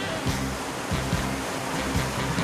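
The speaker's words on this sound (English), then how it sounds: "The powerful surf is generated by a sophisticated computer-controlled system at the deep end of the immense Blue Thunder wave pool" Machine-generated surf in the huge indoor Blue Thunder wave pool at West Edmonton Mall, a constant broad wash of breaking water with repeated low thuds, heard at moderate distance.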